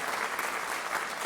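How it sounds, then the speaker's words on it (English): An audience claps steadily for foundation volunteers at an elder speaking event, a dense, even patter of many hands filling the room without pause. "Round of applause."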